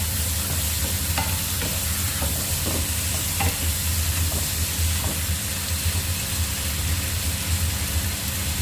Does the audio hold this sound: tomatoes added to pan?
yes